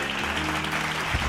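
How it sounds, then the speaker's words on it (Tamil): Congregation clapping hands together at a late-night Bible study service, a brief dense burst of steady applause filling the room with no voices over it. "கைத்தட்டுங்க ஒரு ஆள்."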